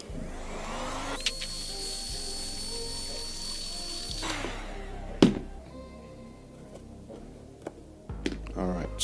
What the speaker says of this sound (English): just going to give this the good old once over with the heat gun